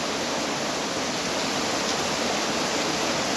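Steady nighttime rainfall fills the air with a thick, constant wash of noise, uniform and near, with no voices or other sounds breaking through.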